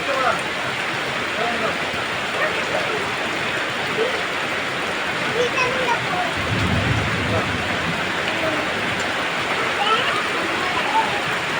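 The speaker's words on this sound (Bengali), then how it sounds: "বৃষ্টির পানি দিয়ে গোসল হয়ে যায়" Heavy rain pours down in Kishoreganj, a dense continuous hiss of drops on surfaces, loud and unbroken, with a brief low rumble midway.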